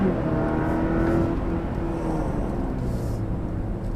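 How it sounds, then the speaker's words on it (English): An engine roars close by as a small vehicle accelerates, its rumbling drone steady and loud throughout. "You can hear that engine, can't you?"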